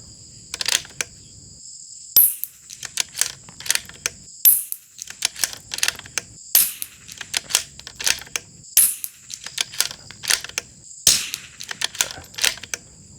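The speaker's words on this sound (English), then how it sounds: "We'll do a 5-shot group" A rimfire rifle with a CRB rimfire barrel firing Eley Ultra ammunition, five sharp, close shots spaced a couple of seconds apart, with bolt clicks and handling noise between them.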